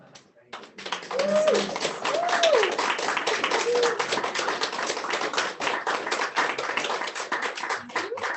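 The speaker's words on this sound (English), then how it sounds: "May we please have another round of applause for Kim." Sustained audience applause fills a hall after a speaker's remarks, dense steady clapping from many hands lasting several seconds, with a voice briefly audible over the start.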